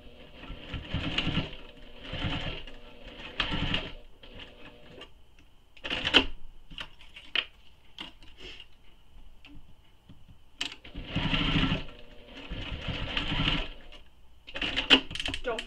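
A sewing machine top stitches along the zipper tabs of a fabric wristlet, running in several short bursts of rapid mechanical stitching separated by pauses and small clicks.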